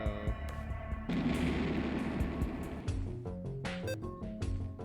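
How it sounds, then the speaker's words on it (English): Torpedo launch in the Star Shift space video game, a loud sustained whooshing blast with rapid synthetic pulses and tonal electronic effects, continuous and close. "Initiate Metcon torpedo."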